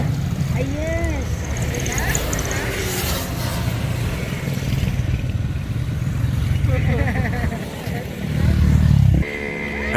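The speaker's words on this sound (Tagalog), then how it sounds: "Ayan, daming mga motor." Many motorcycles pass on a foggy morning road near kilometer 90 toward Laguna: a steady engine drone with rising revs and a louder pass near the end, under voices.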